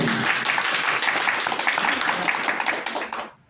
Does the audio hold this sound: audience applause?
yes